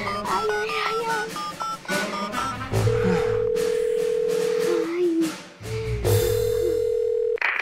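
A telephone dial tone sounds in two long steady stretches while a doctor is being called, mixed with background music and a few short electronic beeps.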